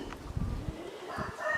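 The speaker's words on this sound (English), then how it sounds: "One little rooster in there" Faint, brief clucking comes from a flock of meat chickens with one small rooster among them, a few soft calls over quiet background noise.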